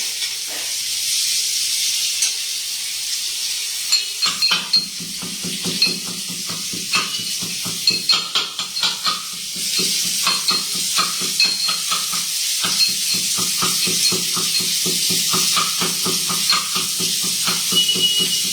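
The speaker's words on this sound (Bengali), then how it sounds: "দাঁড়াও, পটল ভাজি এখন। এবারে পটল লাল লাল করে ভাজতে হবে না, প্রচুর তেল লাগে।" Pointed gourd (potol) fries in plenty of oil in a pan, with a steady close sizzle and hiss broken by quick rhythmic scraping and stirring of a utensil against the pan, with no voices.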